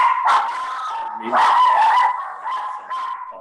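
Pet dogs barking and yipping indoors at home, close and fairly loud, a run of sharp barks and whines over a few seconds with a voice faintly under them.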